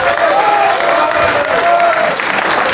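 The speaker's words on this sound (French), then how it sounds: "Par main d'applaudissements, il y en a combien qui étudient dans le même cours que moi?" Steady applause from a live audience at a French-language stand-up comedy show, a dense continuous patter of clapping held at full level for a few seconds, with faint crowd murmur woven through it.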